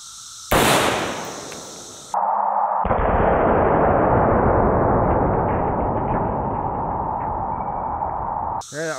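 An AR-15 fires a single 5.56 tracer round into concrete: one sharp, loud crack followed by a long, dense roar of echo and reverberation that trails off over several seconds, with a second brief burst at the very end.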